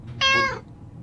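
A cat in a video game gives a single clear, close meow lasting under half a second, bright and tonal, against near silence.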